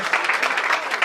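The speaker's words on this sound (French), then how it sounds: "nous allons applaudir cette première" Brief burst of audience clapping at a Congolese gathering, a quick run of close, crisp claps lasting about a second.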